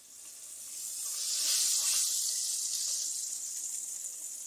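Cornmeal-coated crappie from the St. Johns River frying in hot oil, a loud steady bubbling sizzle that swells early and holds close and continuous, with no talk over it.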